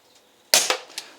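A CO2-powered revolver fires a single shot with a sharp, loud crack, followed quickly by the pellet striking a backstop and a fainter impact, all over near silence.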